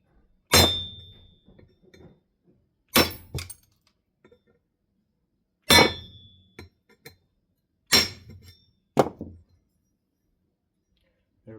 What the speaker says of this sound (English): Remove the old rivets.